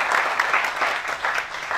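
A church congregation claps together in a dense burst of applause, many hands beating in quick uneven rhythm, moderately loud and close.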